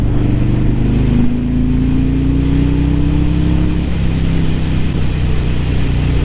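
Harley-Davidson Road King Special (2017) with a Milwaukee-Eight 107 V-twin accelerating, a loud, steady engine roar whose pitch climbs through the first few seconds, then holds a constant drone with no talking.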